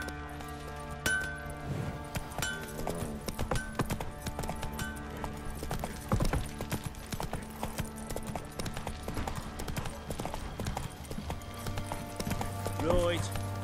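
Horse hooves clip-clopping at a run in The Witcher 3 game, a steady rhythmic patter mixed under game music and ambient sound, with a voice speaking over it.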